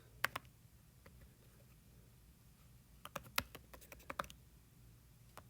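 Typing on a computer keyboard while entering words into a Google Sheets spreadsheet: sparse, quiet key clicks early, then a quicker burst of sharper, louder keystrokes near the end, with no voice.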